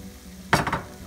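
Arbi (taro) curry dusted with amchur powder sizzles and fries in a pan, a sudden burst of loud frying that swells and then settles into a steady hiss with a few stirring scrapes.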